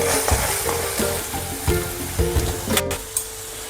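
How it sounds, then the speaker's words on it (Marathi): Masala roasting in oil in a pan for a butter paneer gravy, a steady close sizzle and fry with repeated stirring scrapes in an uneven rhythm and one brief sharper hiss near the end. "ग्रेव्हीचा मसाला मला जास्त वेळ भाजावा लागतो याला तेल सुटजेपर्यंत"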